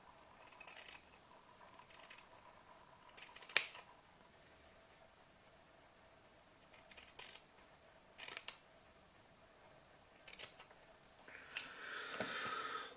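Scissors snip through strips of cotton make-up remover pads being prepared as wicking for a Dotmod Petri 24 mm RTA: a handful of sharp, close, separate cuts spaced apart, ending in a softer rustling cut.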